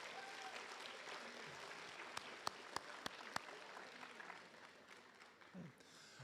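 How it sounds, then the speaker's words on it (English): Faint, distant applause from an audience at a school awards ceremony, a soft patter under room noise with several sharp claps standing out in the middle. "let's give them a round of applause and say thank you"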